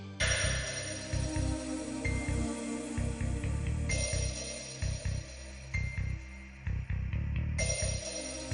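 A telephone rings on and on without being picked up, a steady electronic ringtone pattern repeating over a loud, busy musical background in a Hindi TV drama scene.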